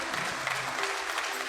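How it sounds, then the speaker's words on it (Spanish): A church congregation applauds in a steady, dense wash of clapping that continues through the short moment, with crowd murmur mixed in. "Dale un fuerte aplauso al Señor."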